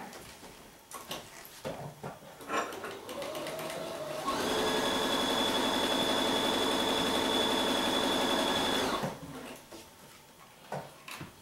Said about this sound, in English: that's how we're going to sew these pieces together